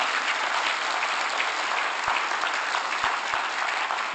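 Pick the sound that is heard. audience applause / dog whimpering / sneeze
audience applause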